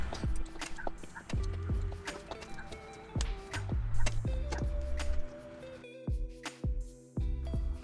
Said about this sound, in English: The creaking we're hearing is most likely due to the suspension settling and compressing as we pull